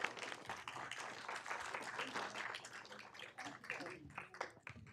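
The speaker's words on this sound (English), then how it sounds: "Let's give them a round of applause." People clap at a city council meeting, a faint, steady patter of applause mixed with murmuring voices in a large room.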